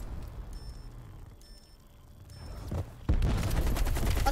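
Gunfire in the video game Black Ops Cold War: bursts of rapid shots through the clip, louder and denser in the last second as the firing intensifies, with no talk.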